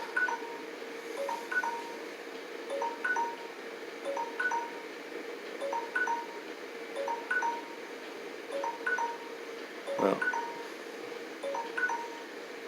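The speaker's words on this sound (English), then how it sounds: "That was my alarm for my timer." A timer alarm beeps in a repeating pattern of short electronic tones in pairs, steady and moderately quiet over a faint room hiss, with a brief knock near the end and one word spoken.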